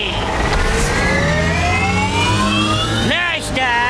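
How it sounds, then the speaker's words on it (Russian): Cartoon rocket engines start up with a steady roaring, rising whine that swoops and warbles near the end, loud and continuous over music. "Звездные гонщики, запускайте ракетные двигатели!"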